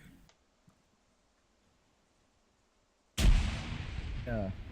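Grenade explosion in a video game, a sudden loud blast after near silence, followed by a sustained rumbling, crackling roar that slowly fades and a faint voice near the end.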